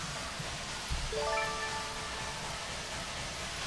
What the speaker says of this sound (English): Let's release some steam, shall we?